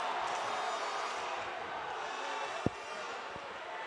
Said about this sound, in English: The crowd cheering, ref, you suck.